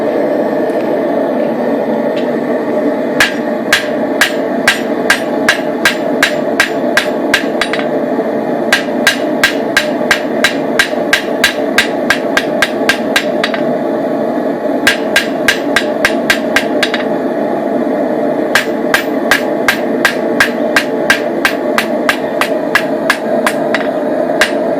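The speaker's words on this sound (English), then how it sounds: "We're now going to forge this distal taper into the piece of steel that we have." A hammer forges a distal taper into a steel knife blade, ringing out in quick rhythmic bursts of sharp metallic blows separated by short pauses, loud and close over a low steady hum.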